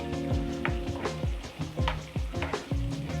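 Meat in a tomato paste sauce with a splash of boiling water being stirred in a frying pan, a steady sizzle broken by repeated scraping strokes of the spoon roughly every half second, close and moderately loud.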